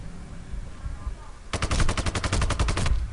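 Rapid automatic gunfire erupts in the video game Sniper Ghost Warrior 2, a fast, evenly spaced burst of loud shots lasting over a second after a quieter stretch of background noise.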